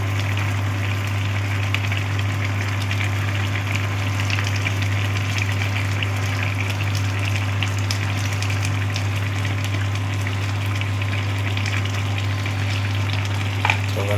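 A pot of beef kaldereta with tomato paste bubbles at a steady simmer, a constant low hum and soft burbling close by, with a faint clink near the end.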